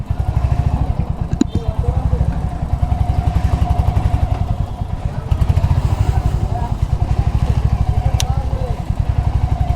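A Royal Enfield Hunter 350 engine idles and thumps in a rapid steady rhythm at a gathering of the bikes, loud and close throughout, with faint clinks now and then.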